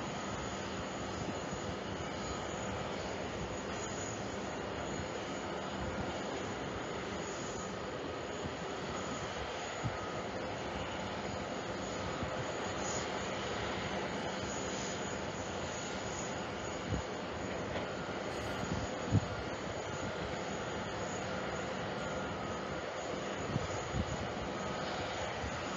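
Jet airliners at JFK Airport produce a faint, steady, distant roar that continues unbroken, with no talking.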